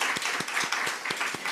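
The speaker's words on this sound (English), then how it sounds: "Let's give a round of applause to these." A conference audience at an African BioGenome Project regional session applauds, a brief burst of dense clapping with a few sharper claps standing out, fairly close and with no speech over it.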